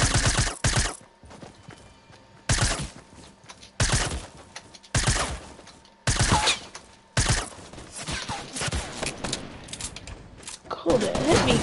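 Bursts of gray SMG gunfire in the video game Fortnite, several loud broadband volleys of rapid shots separated by short pauses, with a player talking in between.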